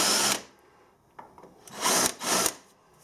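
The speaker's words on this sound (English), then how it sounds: "Just a very light countersink just to break the edge." A drill cuts a very light countersink to break the edge of a hole, heard as a loud, short whir followed by two more close bursts of cutting with brief pauses between them.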